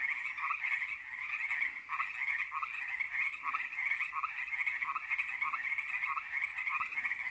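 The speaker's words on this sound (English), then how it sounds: "but a million frogs, and half of them are underground." Frogs croaking at a lake at night, a dense chorus of rapid rhythmic calls repeating steadily and overlapping, moderately near, with no other sounds.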